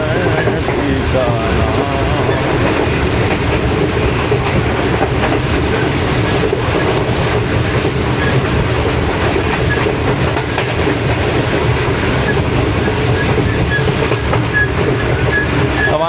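The Shalimar Express rolls along with a loud, continuous rumble and a rhythmic clickety-clack of wheels, slowly and gradually gaining speed, heard from inside the coach with no voices.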